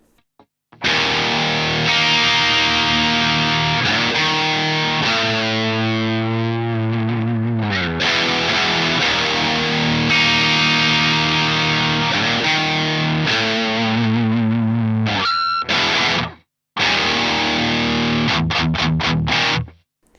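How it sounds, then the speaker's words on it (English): An electric guitar played through a Marshall DSL100 amp with no pedals delivers a distorted, punchy tone of sustained chords and tight chugs, ending in short staccato stabs with brief gaps. "this is the basic amp tone as you hear it with no pedals at all"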